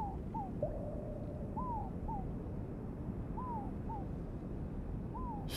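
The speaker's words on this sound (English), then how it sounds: "The doves are waking up and calling to us." Doves call at daybreak in a quiet outdoor setting, giving a series of short, soft hooting coos repeated every second or so over a steady low background hiss, faint and somewhat distant.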